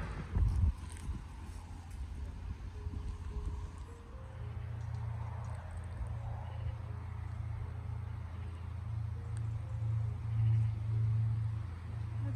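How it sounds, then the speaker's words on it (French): Car arriving at a meadow during an early-morning stable visit, a steady low engine rumble rising from about four seconds on and holding close, with rustling over it. "Encore une voiture."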